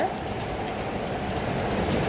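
Heavy rain beats down in Hyderabad as a steady, close, moderately loud wash of noise, with no distinct thunder clap standing out.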